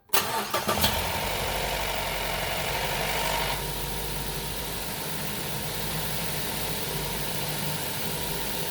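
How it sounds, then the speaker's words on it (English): A 2013 Mazda 3 engine, just after an oil change, cranks briefly with a few sharp starter bursts, then catches and settles into a steady, close idle hum for several seconds with no talking. "in case you're wondering what that noise was on startup, we just did an oil change, so it's normal for a Mazda"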